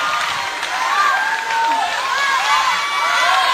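A crowd shouts and cheers for a young child dancer, a loud, sustained wash of voices with whoops rising and falling throughout, close and continuous.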